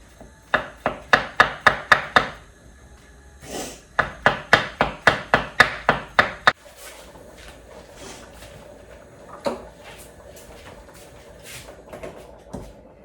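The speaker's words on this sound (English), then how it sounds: "got here 400 grams of chestnut mushrooms, and I'm just going to thinly slice them however you like" A knife thinly slices chestnut mushrooms on a board, two quick runs of crisp, evenly spaced chops close up, then a quieter stretch of scattered taps and scraping.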